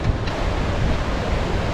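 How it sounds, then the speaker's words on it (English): The Modi River rushes beside a mountain trekking trail on the Annapurna Base Camp route, a steady broadband roar of flowing water with some wind noise, alone and without talk. "This trail is alongside the river."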